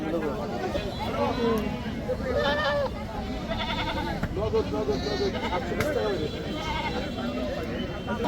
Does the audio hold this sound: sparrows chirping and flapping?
no